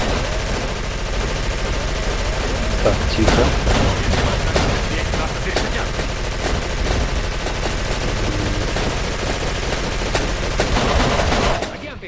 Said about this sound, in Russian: Это стационарный пулемет.